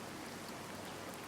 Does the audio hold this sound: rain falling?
yes